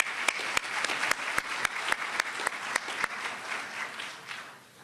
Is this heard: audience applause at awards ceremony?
yes